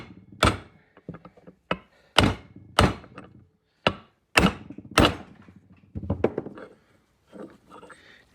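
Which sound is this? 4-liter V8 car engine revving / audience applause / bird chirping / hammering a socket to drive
hammering a socket to drive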